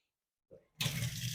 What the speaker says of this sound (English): Just fill you up a big tub of water.